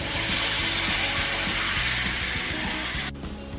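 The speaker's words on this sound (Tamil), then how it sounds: "புளி கரைச்சதை சேர்த்துறேன்" Tamarind water is poured into a hot, sizzling pan of banana curry, producing a loud, steady hiss and splashing that stops abruptly near the end, with no talking.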